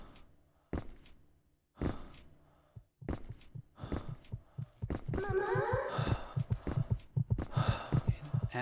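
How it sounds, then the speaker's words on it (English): Rapid heartbeat in the horror game Echo Night Beyond: soft low thumps at first, then a quickening pulse that builds in loudness and density, with an eerie tonal wail rising over it near the end. "As our heartbeat rapidly rises"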